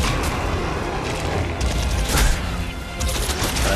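Enemy soldiers open fire in the shooter game Crysis 2, a loud, dense burst of rapid gunshots and booming impacts that rolls on continuously at close range, without speech.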